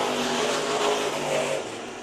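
Race cars at the 2018 Budweiser Nationals, night heats, accelerating hard on the back straightaway, a loud steady engine roar that eases slightly near the end, with no talk over it.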